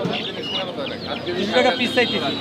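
Egyptian (Mishri) chickens cluck and chatter at a rural poultry market, a busy mix of bird calls close by with people talking alongside.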